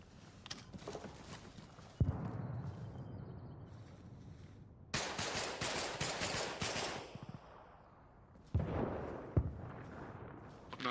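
Rocket blasts and gunfire from a video game battle, heard as bursts of rapid, cracking shots and sharp impacts in several loud clusters with brief lulls between, no talk over them.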